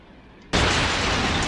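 A car explodes in the BeamNG.Drive driving game, a sudden loud blast that cuts in after a quiet moment and holds as a sustained roaring rumble.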